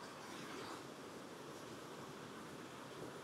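A mountain stream at Phu Pha Man in Khammouane, Laos, rushes in a steady broadband roar, faint and unbroken like surf, with no voices heard.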